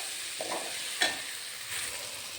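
Onions frying over a low flame for pepper chicken curry, stirred with a couple of scrapes of the spoon against the pan over a soft steady sizzle, close and fairly quiet.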